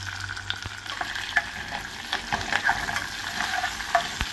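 Vegetable skin and cut green chillies frying in a pan at home, giving a soft steady sizzle with light stirring clicks and scrapes, fairly quiet and continuous, with no talking.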